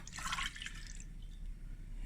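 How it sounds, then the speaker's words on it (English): Milk poured into a pan on a kitchen stove as the start of a chocolate sauce, a short close splashing trickle that fades into a steady low background hum. "I'm just going to add a cup of milk. I'm just pouring it."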